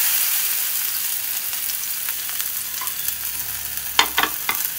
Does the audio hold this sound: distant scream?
no